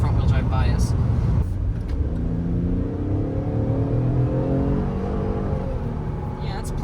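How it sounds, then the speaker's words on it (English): A front-wheel-drive Chevrolet Traverse pulls away from a stop, its engine rumbling and rising steadily in pitch while a person talks over it. "when you're trying to accelerate from a stop, you get a lot of wheel spin because it's front-wheel drive bias"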